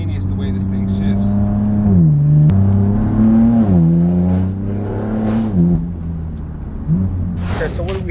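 A BMW M4 F82 with an automatic gearbox pulls hard, its engine note climbing in pitch and dropping abruptly at each quick upshift, heard up close and steady throughout.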